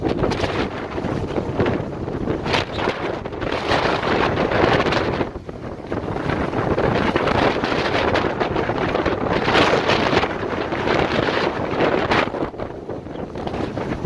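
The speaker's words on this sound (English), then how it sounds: "The wind is kicking." Strong winter wind buffets the microphone on a Dauphin Island, Alabama beach, a loud, steady roaring rush with gusty swells and only a brief lull midway.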